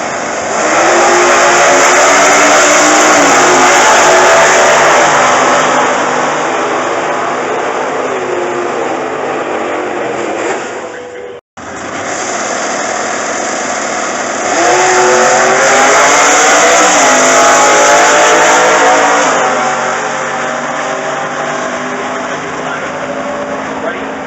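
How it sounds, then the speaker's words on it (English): A 358-cubic-inch V8 in a 1998 Pontiac Grand Am super stock race car roars and revs loudly up close during qualifying, pitch climbing and dropping through gear changes, with a brief cutout midway before it picks up again. "the super stock V-Modified 1998 Pontiac Grand Am 358-inch engine making the power"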